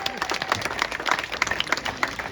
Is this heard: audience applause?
yes